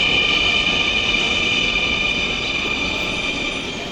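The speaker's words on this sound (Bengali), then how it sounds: "এইমাত্র মতিঝিল থেকে ডেমো ট্রেনটি এসে থামলো" A metro train in Dhaka, Bangladesh, arriving at Uttara North station rumbles loudly and steadily with a high whining hum, its noise easing slightly at the end as it slows to a stop.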